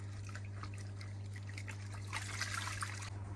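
An off-road trials motorcycle's air filter is washed in warm water, giving a soft, continuous trickling and splashing that grows busier toward the end over a low steady hum.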